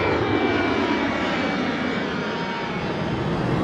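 An airplane passes overhead above Jeju City, South Korea, a steady broad roar of aircraft engine noise that holds loud and even throughout without any voices.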